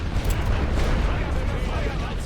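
Heavy artillery of The Great War: Western Front strategy game rumbling as a continuous low, dense barrage of distant booms, with a voice talking over it.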